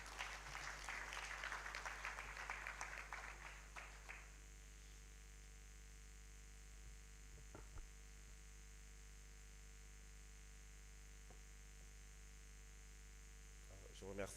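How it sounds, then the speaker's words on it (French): A crowd applauds a Senegalese minister at the official opening of the SIPEN 2023 conference, a brief burst of clapping in the first few seconds that fades into a steady electrical hum with faint scattered noises. "Sous vos applaudissements, s'il vous plaît."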